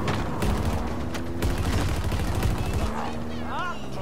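Heavy gunfire from a Halo Infinite match: loud, dense bursts of rapid shots and blasts rattle continuously for several seconds, then give way to sweeping electronic game tones near the end.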